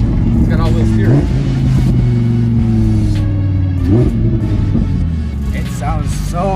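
A 2020 Lamborghini Huracan EVO Spyder engine revs loudly and close, pitch rising and falling in several aggressive sweeps, with people talking over it.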